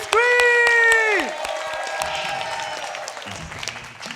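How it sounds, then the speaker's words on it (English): An audience at a women's TV show taping applauds and cheers for the Prima Donna dancers. A loud sustained whoop or scream opens it, then dense clapping and crowd noise continue and gradually fade. "The Prima Donna dancers, let's give them a nice round of applause and let me hear you scream!"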